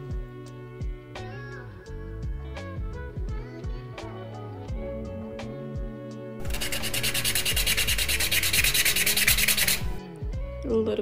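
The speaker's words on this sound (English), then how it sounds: "And we're just gonna sand it right off." Sandpaper rubs UV resin off a custom pen wrap in a steady, harsh scraping stretch of a few seconds, with background music playing throughout.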